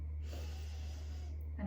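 A single drawn-in breath during a children's circle-time breathing exercise, pretending to be a tiny seed. It is soft and airy, with a steady low hum behind it and no talk.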